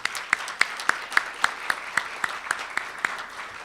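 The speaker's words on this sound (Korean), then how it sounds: "우리 다 같이 환영의 박수 부탁드립니다" A small lecture audience at a theological graduate school special lecture gives a welcoming round of applause, heard as a sparse, evenly spaced series of distinct claps, fairly quiet, with a soft murmur of many hands beneath.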